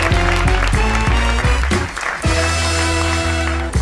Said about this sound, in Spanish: hemos asistido a lo que se conoce en el mundo del espectáculo como el aplauso por agotamiento